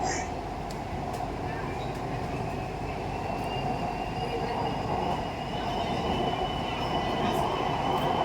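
An underground metro train in Kolkata runs through the tunnel beneath the Hooghly river, a loud, continuous rumbling roar with faint high wheel whine and a muffled voice underneath.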